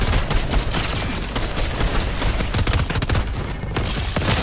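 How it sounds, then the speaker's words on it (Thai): Rapid, dense gunfire in the video game Fortnite rattles continuously, overlapping bursts of shots crackling close and loud with no voices. "นั่นมีเสียงปืนอยู่"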